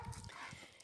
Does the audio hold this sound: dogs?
yes